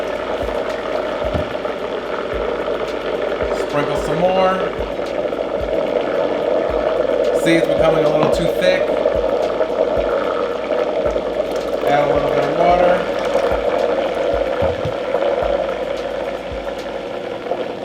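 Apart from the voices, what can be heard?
blender mixing qatayef batter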